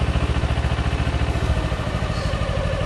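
A motorcycle engine idling with no throttle, a close, steady low chugging pulse with a fast even rhythm and a light mechanical clatter, unchanging throughout.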